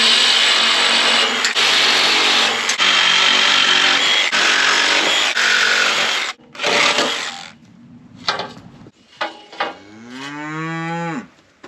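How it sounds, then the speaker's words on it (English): Sawzall reciprocating saw cutting up an old, rusty, thin-walled metal corral panel, a loud harsh buzzing for about six seconds, then stopping and restarting in short bursts, followed by a cow mooing nearby. "I've got my Sawzall here with me today. We're gonna cut this up"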